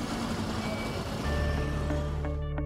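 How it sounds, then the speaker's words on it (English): Dense rush-hour traffic in Victoria Island, Lagos: a continuous roar of idling and moving engines with a deep rumble, a few short beeps and horn-like tones near the end, fairly loud and close. "now strangled by dense traffic amid a riot of noise and overheated frustration"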